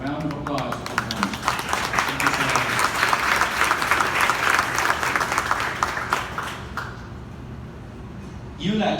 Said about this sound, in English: I just want to please give a round of applause for him.